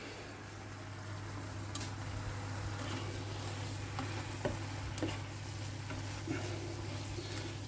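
Sausage roll filling with bacon sizzles steadily in a pan, a soft continuous fry with occasional stirring scrapes and small pops, fairly quiet over a low hum.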